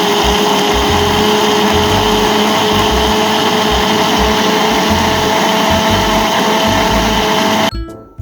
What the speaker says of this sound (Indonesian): Selanjutnya, nanas di blender hingga halus.